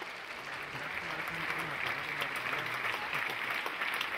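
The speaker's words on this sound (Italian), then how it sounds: "Facciamo io un applauso, prego." A small audience at an Italian vegan health testimonial gathering breaks into steady, fairly quiet applause, a dense patter of clapping that continues throughout with a faint voice underneath.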